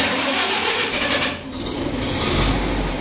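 A 1947 Hughes Doodle Bug loader engine catches and fires up after a choked start, settling into a steady, loud running rumble close by with no talk over it.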